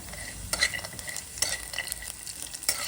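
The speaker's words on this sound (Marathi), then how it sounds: "आता ह्या सगळ्यांसोबत शेंगदाणे पण व्यवस्थित भाजत घालतो आता कढीपत्ता देखील आपण याच्यामध्ये टाकून घेऊया" Onion, peanuts and curry leaves sizzle as they fry in hot oil for an upma tempering, with steady crackling and a few sharp stirring scrapes of a spoon against the pan, close and fairly quiet.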